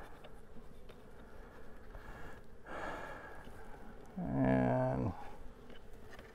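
Honey bees buzz around a productive beehive, a faint hum throughout with a louder close pass as one flies near, alongside soft handling noises and a brief spoken word.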